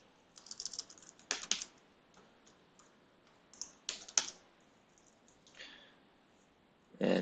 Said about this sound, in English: So type in a password.